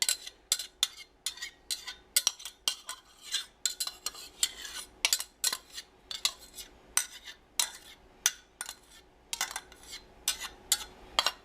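Ground meat and diced yellow onion cooking in a pan for chili: a utensil scrapes and clinks against the pan over and over in quick, irregular strokes, close and fairly quiet, with no talk.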